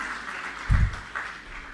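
An audience at the launch of a Delhi government school claps, a brief, moderately loud round of applause that swells and then fades under faint background noise.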